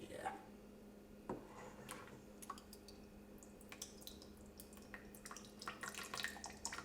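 Ladled curds for homemade cream cheese dribble liquid into a container in faint, soft drips and trickles, quiet and close, with voices murmuring in the background.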